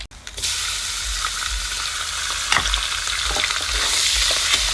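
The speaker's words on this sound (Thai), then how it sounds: "เจียวกระเทียมลงไปพอเเจียวแล้วก็ตามด้วยหมูนะครับ" Garlic and minced pork frying in a pan for an old-style fried rice, a loud, steady sizzle with stirring scrapes, close up and without talk.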